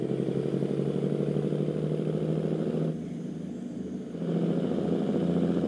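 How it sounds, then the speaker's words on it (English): Steady low drone of a Cummins 800-horsepower truck engine in American Truck Simulator, cruising through Colorado; loud and continuous, dipping briefly in the middle before returning to full strength. "the Cummins 800 horsepower engine on the truck."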